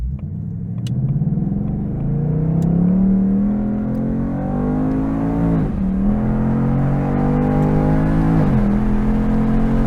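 A 2024 Ford Mustang Dark Horse pushed hard through a turn, its engine a loud, close, deep rumble that rises in pitch, dips twice as it shifts, then climbs again.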